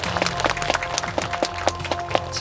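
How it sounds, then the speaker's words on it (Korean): An audience at a ceremony honouring Samcheok Jukseoru pavilion's upgrade to national treasure claps in a lively, uneven burst of many hands, nearby and fairly loud. "큰 박수 부탁드립니다"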